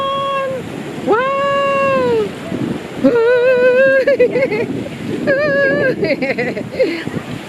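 Sea waves wash steadily at a resort beach, making a loud, broadband rushing surf. Adults and someone talk and exclaim close by over the water noise.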